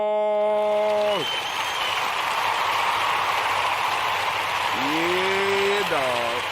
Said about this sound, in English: I want to give all of the Kuji babies a round of applause.